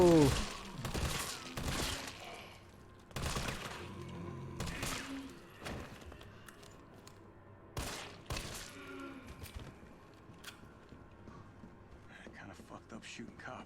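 Gunfire rings out while shooting cops in Resident Evil, with several sharp bursts of shots in quick clusters early on and scattered single cracks later, set against quiet game ambience with occasional talk.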